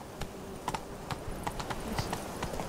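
Hoofbeats of a horse galloping along a road in The Witcher 3, steady clip-clop strikes repeating through a busy game soundscape, close and fairly loud.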